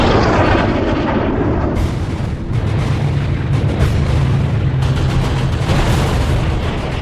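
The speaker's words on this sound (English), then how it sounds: "heavy cannon pummels another flying fortress." Heavy aircraft cannon fire hitting a B-17 Flying Fortress in rapid, rough bursts over a constant roaring engine drone, loud and close.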